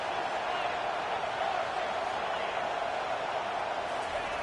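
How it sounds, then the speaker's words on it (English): A broad, steady roar from a stadium crowd at a college football game in EA College Football 25, Oregon against Ohio State, held constant and dense with a commentary voice over it. "This crowd trying to make life miserable for this offense."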